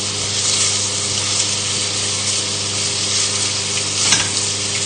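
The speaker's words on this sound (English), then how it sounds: "So we can turn these over. Just lightly turn them in the pan." Pork pieces sizzle steadily in a hot pan while being turned for a cider braise, a continuous close frying hiss with a faint scrape near the end and no talk.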